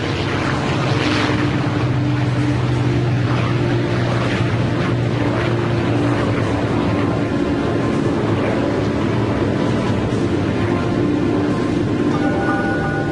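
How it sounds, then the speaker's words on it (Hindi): A B-29 Superfortress bomber, Bockscar, takes off with a continuous loud propeller-engine roar that holds steady throughout, with a droning, buzzy hum and no voices. "B-29 सुपर फोर्ट्रेस बॉक्सकार ने उड़ान भरी।"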